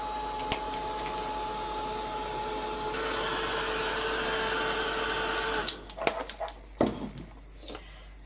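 A heat tool or hair dryer blows over wet paint splats in a craft journal, a continuous loud whirring hiss that holds steady for several seconds and then cuts off, followed by a few handling clicks and knocks.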